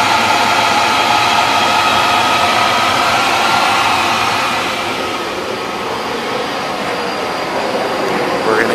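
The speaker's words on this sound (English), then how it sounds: "we're gonna turn on this boiler here on this on button. And so you do. You can hear it kicking on." A boiler fires up during a chiller and brine setup, giving a loud, steady roaring rush that holds throughout with only a slight dip midway.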